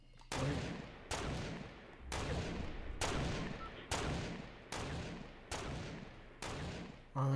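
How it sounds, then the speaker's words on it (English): Eight sharp gunshots ring out at about one-second intervals in a sniper shootout video game, each with a long fading echo that suggests distance, and there is no speech between them. "Trap, I hear gunshots."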